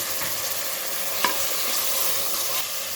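Chicken, 500 grams, stirred into a hot pot for a home-style chicken pulao, with a steady broad sizzle and frying hiss throughout and a brief clatter of stirring near the middle, no talking.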